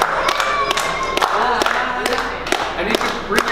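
Crowd on a film set for a live-action Goofy movie, clapping and cheering in scattered bursts with whoops and shouts, close and lively, with voices mixed in.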